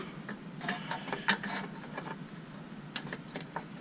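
A ratchet clicking as a 13mm bolt holding the ABS line is fitted in the cramped wheel well of a Dodge Caliber SRT-4, faint irregular ticks and short clicking runs, close by with no talk.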